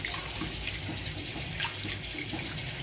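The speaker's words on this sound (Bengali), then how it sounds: "পুরো জলে ধুয়ে নিচ্ছি আমি, পেটগুলো একটু পরিষ্কার করে ধুয়ে দিচ্ছি।" Raw prawns rinsed under a running kitchen tap, a steady, close splashing rush of water that continues without a break, with no voices.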